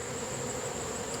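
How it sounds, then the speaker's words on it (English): Honey bees from a swarm hum in a wooden hive box with a screened bottom board, a steady close drone holding one even pitch throughout without pause. "There are a lot of bees in this box."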